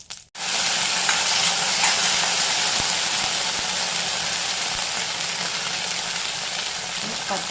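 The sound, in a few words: cardamom and fennel frying in pan while stirred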